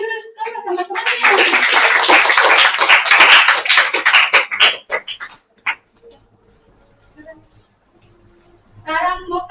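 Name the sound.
applause for a classmate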